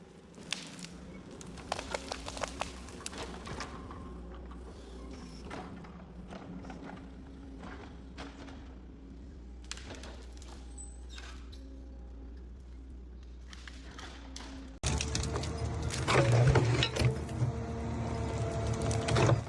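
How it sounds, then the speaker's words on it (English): A forestry machine grips and cuts a standing tree, producing irregular mechanical clunks and whirring that turn abruptly louder and harsher near the end. No voices are present. "The machine grips a standing tree,"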